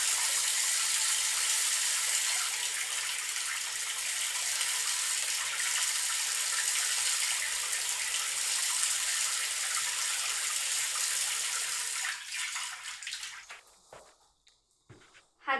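Hot water tap running into a sink at home during water testing, a steady loud broadband rush for about twelve seconds before being turned off, fading to near silence with a faint handling sound at the end.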